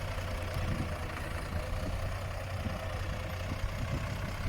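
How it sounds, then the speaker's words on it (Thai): A six-cylinder Power Star tractor engine rated at 105 horsepower runs steadily nearby, a loud, even low rumble with a deep truck-like drone and no breaks. "ดังเป็นรถหกล้อเลยครับเครื่องยนต์"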